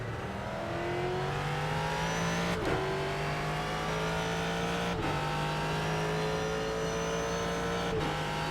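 A Porsche race car engine at the 24 Hours of Daytona in iRacing, a steady loud high-pitched drone with tones gradually climbing, broken by three sharp gear shifts roughly every two and a half seconds, with no talking.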